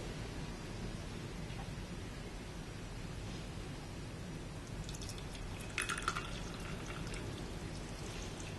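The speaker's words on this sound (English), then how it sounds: "now we can pour our tea." Traditionally made tea pours into a cup in a soft, continuous trickling stream under a steady hiss, with a faint clink near the end and no talking.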